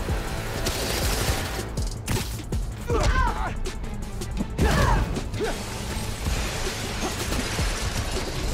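Enemy gunfire rattles in Spider-Man: Miles Morales, loud bursts of rapid shots mixed with clanking mechanical impacts over a busy, steady battle din.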